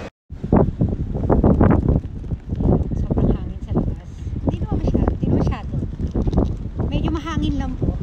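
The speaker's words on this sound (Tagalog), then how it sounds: "Hangin lang po." Wind gusting across a microphone outdoors while a woman walks pushing a stroller, a rough low rumble that buffets steadily under continuous talking throughout.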